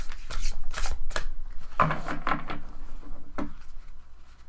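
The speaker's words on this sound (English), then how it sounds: "let's go ahead and select our 4 cards" Tarot cards are shuffled and handled close by in several quick riffling and slapping bursts, with softer rustles as cards are selected. No one speaks.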